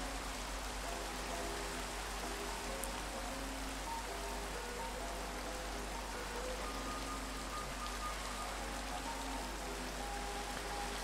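Steady rain falls in a Minecraft hardcore world, a dense even hiss of drops that continues unbroken and alone at moderate loudness.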